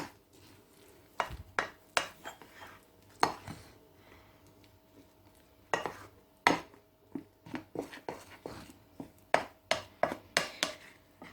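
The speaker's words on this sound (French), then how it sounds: "Ensuite, nous mélangeons le tout délicatement." Utensil clinking and scraping in a bowl as salmon mousse ingredients with lemon juice are gently mixed, a series of sharp close taps at an irregular rhythm against a quiet background.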